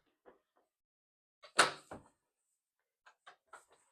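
Quiet indoor door handling: a soft click, then a louder latch clack and thump as the door swings open, followed by several light taps and clicks.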